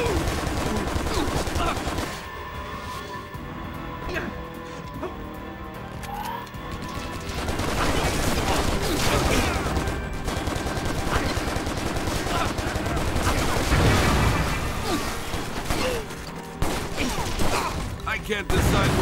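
Gunfire in the Stranglehold game crackles in repeated bursts of shots and crashes over a busy, loud action scene, with someone talking over parts of it.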